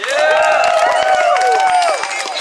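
A crowd at an abolition protest march in New York City claps in quick, scattered bursts while voices whoop and cheer loudly over the applause, close and lively for a couple of seconds.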